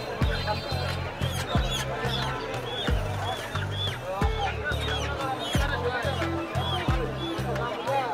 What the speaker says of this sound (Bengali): এগুলি হচ্ছে মিশরের ফাউমি জাতের মুরগি।